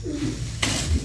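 Pigeons give a short, low cooing call close by, followed by a brief burst of rustling noise.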